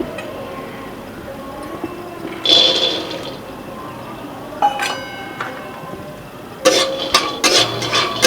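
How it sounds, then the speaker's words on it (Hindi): Peanuts being roasted in a pan for ladoos, with intermittent scraping and clinking of a utensil against the pan in short bursts over a low background hiss. "अब मूंगफली को थोड़ा सा भून लेते हैं।"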